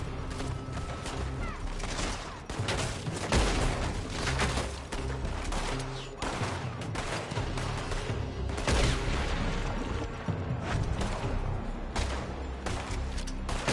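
Gunfire rattles from a building during a Red Dead Redemption 2 shootout, repeated sharp shots and volleys crackling over a busy low rumble, fairly distant and continuous throughout.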